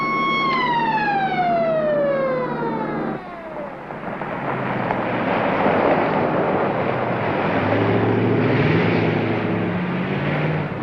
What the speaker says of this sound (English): Would you mind turning off that siren so I can think?